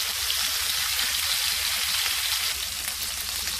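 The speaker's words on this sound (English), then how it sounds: "Just be sure that your ribs are dry before you fry them." Pork ribs sear in a hot pan, a steady, close crackling sizzle with dense spitting pops throughout, loud and unbroken with no talking.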